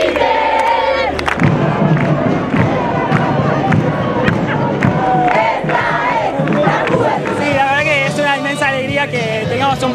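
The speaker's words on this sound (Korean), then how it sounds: "처음으로 라틴 아메리카 출신 교황이 탄생하자 라틴 아메리카 신자들은 환호합니다." A large crowd of Latin American Catholics cheering and shouting after the election of the first Latin American pope, loud and close, with overlapping voices and chants throughout.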